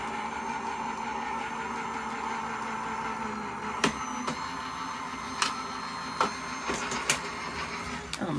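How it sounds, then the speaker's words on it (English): A die cut machine runs steadily as low tack tape and card pass through, a continuous mechanical whir with a few sharp clicks and thumps near the end, no talking. "And then I'm going to run it through my die cut machine."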